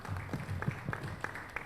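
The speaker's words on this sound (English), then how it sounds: "Please give her as well another round of applause." Audience applause at a high-level meeting on financing for gender equality in Africa, a brief burst of scattered hand claps in a large room, moderately loud with no talking.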